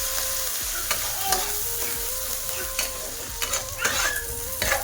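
Ginger-garlic paste sautéed on low heat for a prawn curry, a continuous soft sizzle broken by repeated scraping strokes of a spoon against the pan, close and steady.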